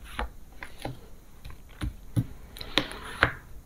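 Tarot cards are drawn and laid out one by one for a nine-card spread, giving about eight crisp, separate taps and flicks, close and fairly quiet, with no talking.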